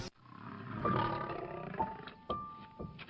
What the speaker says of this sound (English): Nothing matches the thrill of hearing a lion's roar echo across the plains.